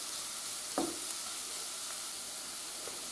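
Onion frying in a pan for a pearl barley and bean porridge, a steady soft sizzle with a few faint stirring scrapes, fairly quiet and continuous with no talk.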